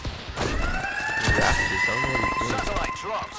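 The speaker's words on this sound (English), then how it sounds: "Oh, the siren thing." A wailing police-style siren rises and falls in Call of Duty: Advanced Warfare multiplayer, sounding loud and continuous beneath game noise and a player's voice.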